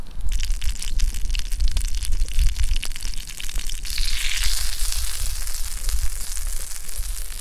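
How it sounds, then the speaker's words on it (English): Butter melting in a pan set over a camp flame at a high alpine lake, giving a steady hiss and crackle that swells into a brighter sizzle midway, alongside low rumbling from the burner. "put some butter so they don't stick, and add a little bit of that buttery flavor. set that in the flame, let it melt down."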